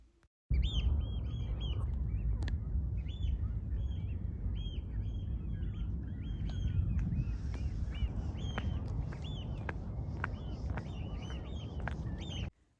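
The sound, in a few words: oystercatchers' high-pitched call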